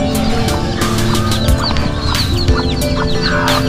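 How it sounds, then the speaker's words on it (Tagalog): Chickens cluck steadily at a village coop in the Philippine countryside, several birds overlapping in a busy, close chorus with occasional sharper calls over background farmyard noise. "Ito po, may naglilimlim na manok"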